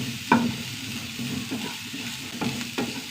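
Chopped onion sizzles steadily in a hot pan as it browns for a green gram curry, with a few sharp clanks of a spoon stirring it against the metal.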